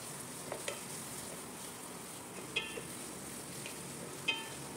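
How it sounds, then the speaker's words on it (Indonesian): Ground spice paste fries in a pan with a soft, even hiss. A few light utensil clicks and scrapes cut through, and no one speaks. "Lalu kita masukkan seperti ini dan digoreng supaya berbau"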